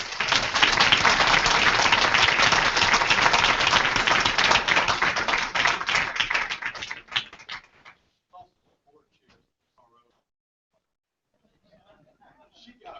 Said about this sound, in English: Let's give Officer Holt a round of applause.